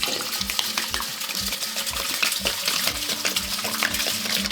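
Fresh wort for a Czech Pilsner poured at home, a continuous splashing, gurgling liquid stream with bubbling bursts, close and fairly loud throughout.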